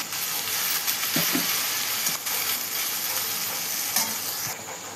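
Bitter gourd with turmeric and salt being stirred in a hot pan: steady close sizzling with scraping spatula strokes throughout, and no voices.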